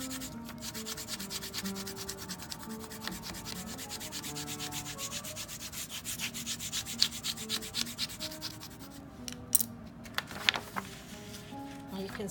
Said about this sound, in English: and then you just rub it again. You have to really scrape it.